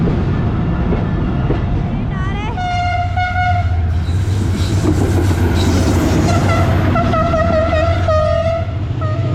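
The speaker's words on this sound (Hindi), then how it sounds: "कोट लखपत रेलवे स्टेशन की फाटक के पास से गुजर रही है।" Train passing a railway crossing near Kot Lakhpat station in Lahore, loud and close, with a steady rumble and rattle of wagons and repeated horn blasts over the whole stretch.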